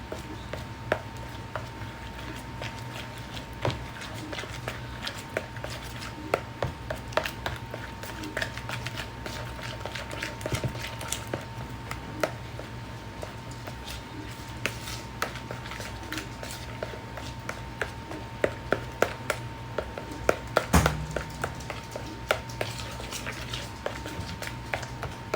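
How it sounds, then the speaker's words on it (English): Doggy ice cream mixture being stirred and mixed in a bowl, a steady run of soft scraping and clicking taps close by over a low background hum, with no talking. "Now we're going to stir it all up. Mix it up really well."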